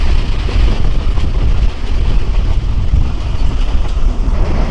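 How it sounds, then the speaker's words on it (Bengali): The Titumir Express runs across Chalan Beel on the Rajshahi to Joypurhat line. A loud, steady rumble mixes with roaring wind, continuous and close, with no speech. "চলন বিলের মাঝখান দিয়েই আমাদের এরকম লাক্সারিয়াস এক্সপ্রেস তিতুমির ট্রেন"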